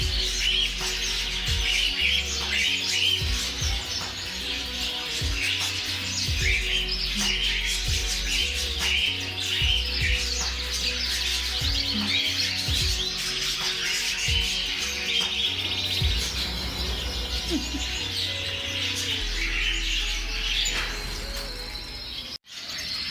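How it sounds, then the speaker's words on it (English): Dozens of canaries and finches chirp and tweet busily inside a bird store, a dense, continuous chorus of overlapping bright calls, close and fairly loud, with occasional knocks and clatter underneath. "Look at these beautiful canaries."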